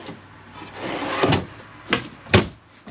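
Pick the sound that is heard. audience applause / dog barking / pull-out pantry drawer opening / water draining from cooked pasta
pull-out pantry drawer opening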